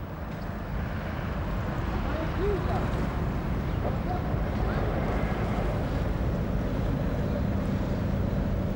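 An old, renovated sailing boat used for cruising motors out of a harbour under engine power, a steady low rumble with wind and water noise running evenly throughout.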